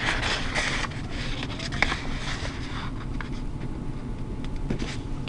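Origami paper being folded and creased by hand, a continuous papery rustle and scrape with soft creaks and one brief sharp crinkle.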